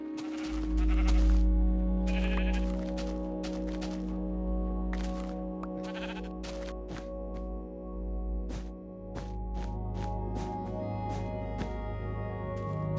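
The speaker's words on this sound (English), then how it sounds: "Pink sheep." Sheep bleat repeatedly in Beta Minecraft, short game-sound calls scattered through the whole stretch over a steady low background hum and ambient tones, with no talk.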